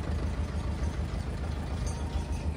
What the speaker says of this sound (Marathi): ही दुसरी ट्रॅक्टर आली आता, पाहू शकताय.